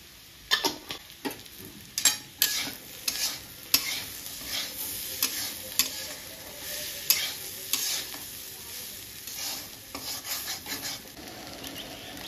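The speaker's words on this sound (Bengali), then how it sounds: "এদিকে আমার আলুটা ভাজা হয়ে এসছে" Potatoes fry in a pan on a home stove, with soft sizzling under repeated scraping and stirring strokes from a spatula, the strokes coming in an irregular rhythm, close by and with no talking.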